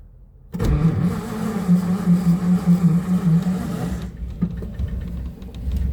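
An old vehicle without an ignition key starts and idles rough, then its engine is revved up and down several times on the hand throttle in a low, pulsing drone, nearby and fairly loud, before dropping away.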